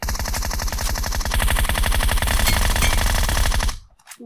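Sustained automatic gunfire in PUBG Mobile's Metro Royale mode, a loud, close, steady rattle of rapid shots that runs for several seconds before cutting off abruptly.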